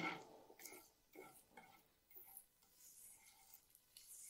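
Light, intermittent scraping of a spoon through sugar melting in ghee in a pan, faint and close, with small clinks and quiet gaps between strokes.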